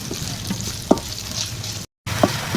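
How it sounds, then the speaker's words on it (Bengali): Onions fry in a pan until reddish, a steady sizzle with two distinct spatula scrapes and a brief drop to silence partway through. "পেঁয়াজটা লাল লাল করে ভেজে নিয়ে আমি এখানে মাছটা দিয়ে দিব।"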